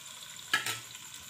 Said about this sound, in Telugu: కట్ చేసిన పచ్చిమిర్చి, సన్నగా కట్ చేసిన ఆనియన్స్, కట్ చేసిన ఆలు అన్నీ కలిసేలాగా ఫ్రై చేసుకోవాలి.